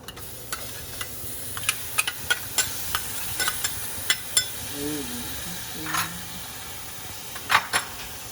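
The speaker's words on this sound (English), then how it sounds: "Now we're going to add in some of the green seasoning with the garlic." Green seasoning and garlic with curry powder frying in a pan, a steady soft sizzle broken by scattered scrapes and ticks of stirring, close by, with a brief murmur of voice partway through.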